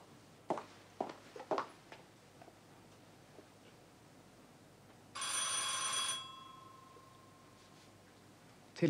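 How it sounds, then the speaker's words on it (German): An old landline telephone bell rings in one sustained burst inside a home, preceded by a few footsteps and rustles, in a scene from the German police drama Der Kommissar. "Telefon."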